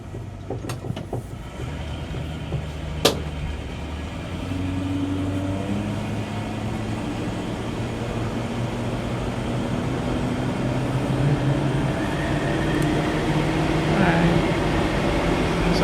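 A silver-blue 1965 Ford Mustang Fastback pulls away at half throttle and runs up through the gears. The engine drone is steady and moderately loud, rising in pitch as it accelerates, with road and wind noise around it.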